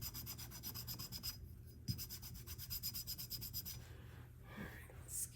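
Foot file rasping across callused skin during an at-home pedicure, quick rhythmic back-and-forth strokes with brief pauses, close and quiet.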